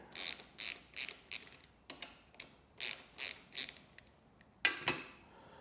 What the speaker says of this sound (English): loosen off these bolts that are holding the lever assembly and the mirror mount